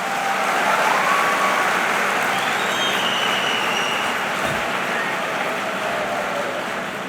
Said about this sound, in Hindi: देखो, ताली बजाई है तुमने